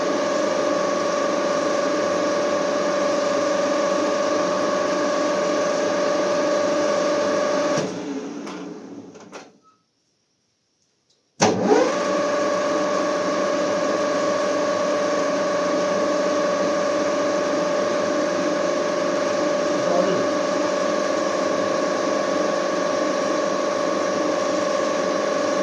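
Metal lathe turning a chuck key holder on a SIM lathe, a steady machining drone with a tonal whine that cuts out for a few seconds near the middle, then restarts abruptly and runs on.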